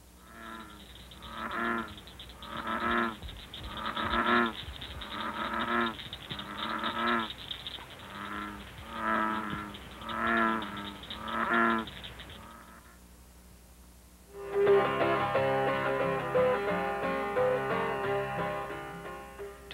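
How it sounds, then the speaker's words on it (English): A group of bullfrogs calls in Missouri, with deep, repeated croaks in a steady rhythm that stop after a pause, then give way to a dense, overlapping chorus. "Here's what a group of bullfrogs sound like"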